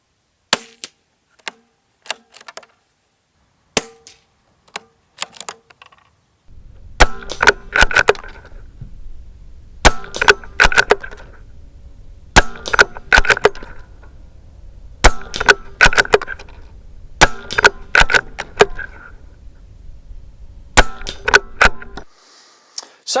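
A CZ 457 synthetic .22LR rifle with a 16-inch barrel fires a long series of sharp, dry cracks outdoors, spaced single shots with brief pauses between them and faint clatter of handling in the gaps.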